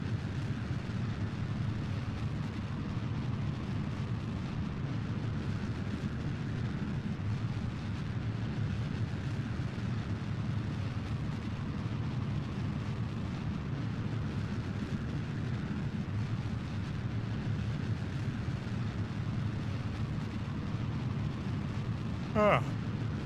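A rocket engine burn in the video game Kerbal Space Program during an ascent to orbit: a steady, loud, low rumbling roar that holds unchanged for the whole stretch, with a brief rising tone near the end.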